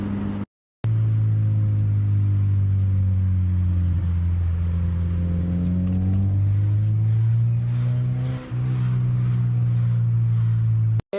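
A manual car driven at low speed with downshifts, a steady low engine hum that shifts pitch as gears change, heard from inside the cabin with no talk.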